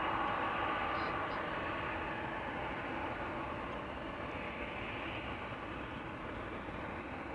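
A Boeing 777 at Amsterdam Schiphol Airport gives off a steady, broad jet-engine roar that stays loud and constant throughout, with a low rumble beneath a bright hiss.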